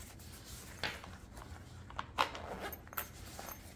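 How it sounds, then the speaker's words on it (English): A zipper runs on a small padded camera case that holds a Geiger counter, a few short quiet zipping strokes close by with soft handling noises between them. "And the front has a zipper."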